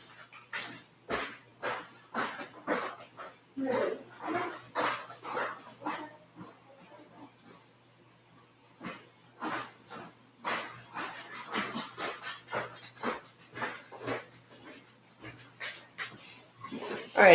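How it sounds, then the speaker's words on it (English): A pet dog barks repeatedly in short rhythmic bursts, pauses, then resumes with quicker yelps and whimpers, fairly close in an indoor room, with a person speaking briefly between. "my dog is barking"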